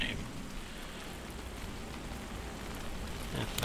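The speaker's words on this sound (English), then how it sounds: "it's raining" Rain in the survival video game Soulmask falls as a steady, even hiss of drops on surfaces, moderately loud and continuous, with no talking.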